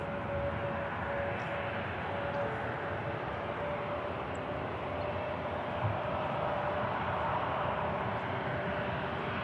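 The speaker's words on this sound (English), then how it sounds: "there's 2 aircraft on the approach" Steady broadband jet roar of an aircraft on approach to Manchester Airport, continuous and fairly distant, holding an even level throughout with a faint tonal whine and no talk.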